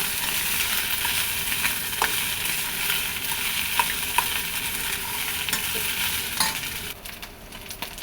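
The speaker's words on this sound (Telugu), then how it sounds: "కలుపుకున్నాక దీంట్లో మనం రైస్ యాడ్ చేసుకున్నాక ఒకసారి కలుపుకోవాలి" Rice being stirred into an egg mixture in a frying pan for simple egg rice, with a steady sizzle under scraping and stirring, and a few sharp clicks of the spatula against the pan.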